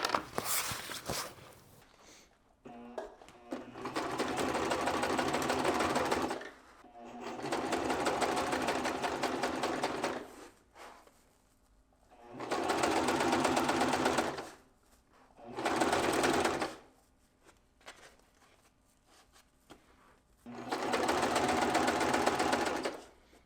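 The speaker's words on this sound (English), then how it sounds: "make sure all of our guides and notches line up, and just sew right along that edge." A sewing machine stitches corner to corner along the edge of a fabric back panel, running in five steady bursts of a few seconds each with short quiet pauses between them.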